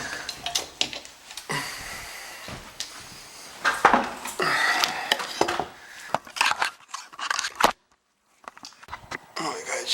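Wet, soaked first-floor ceiling drywall is cut by hand after a water leak, a series of uneven rasping and crunching cuts close by, with pauses between strokes and a person talking over parts of it.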